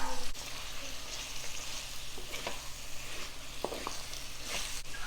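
Mutton pieces with masala sizzling and frying in a pan as mutton fry is prepared, a steady soft hiss with occasional stirring scrapes and clicks, close and fairly quiet, no talking.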